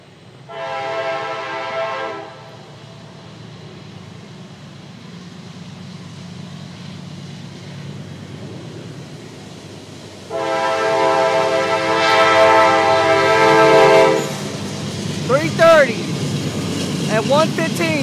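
A CSX freight train led by two AC44CW locomotives sounds two long horn blasts as it approaches and passes through Hamlet, with a steady rumble of rolling cars between and beneath the horn.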